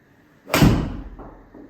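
A golf club strikes a ball with a wide open stance and open club face during a practice swing, one sharp close impact followed by a fading whoosh.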